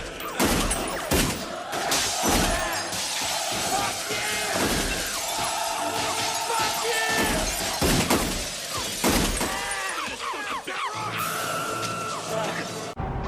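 A gunfight scene from the film Natural Born Killers: glass shatters and breaks repeatedly amid bursts of gunfire, with sharp crashes, tinkling shards and cries mixed into a busy, chaotic stretch.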